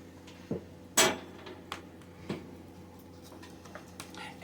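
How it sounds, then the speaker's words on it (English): A spatula scrapes mashed sweet potato against the side of a metal mess kit, giving a few sharp clinks and short scrapes with quiet pauses between them, close up and without talk. "Take my mashed sweet potato, scrape it into the side with the scraping spatula."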